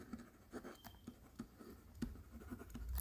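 A pen scratching notes by hand on paper, soft irregular strokes and taps repeating close by, quiet and steady, with no voices.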